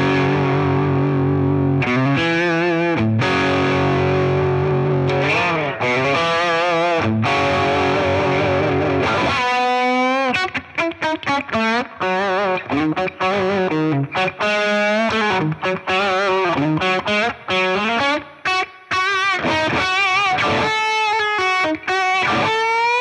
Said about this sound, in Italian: questo qua è il crunch del Catalyst